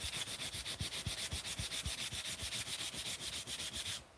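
Hand sanding of wood, rapid regular back-and-forth scratchy strokes, about five per second, loud and close, stopping abruptly near the end.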